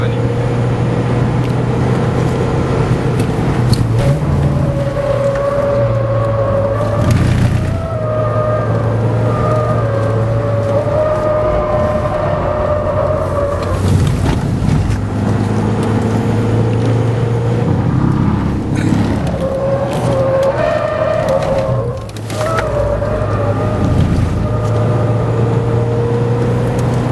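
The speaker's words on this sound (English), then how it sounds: "I'm sorry, Bobby, the AC is off because I want that extra punch in the engine" Mahindra XUV500 engine driving hard on the BIC F1 race track with the air conditioning off, a steady droning engine hum with rising and falling revs, heard from inside the cabin while people talk throughout.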